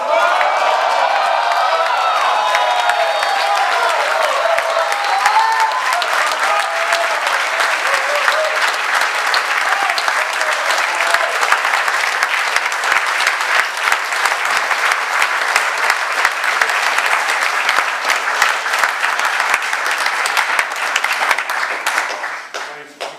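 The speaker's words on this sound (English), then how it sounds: "So please can you be upstanding and give Paul a really big cheer." Wedding guests give sustained loud applause and cheering during the speeches, with whoops and shouts over dense clapping that runs steadily for over twenty seconds before cutting off.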